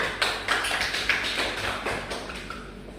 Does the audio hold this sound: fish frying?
no